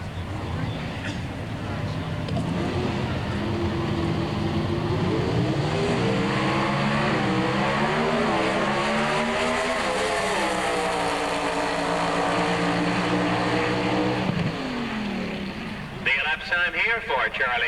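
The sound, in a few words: Pro Stock drag racing cars, Trans Am Pontiac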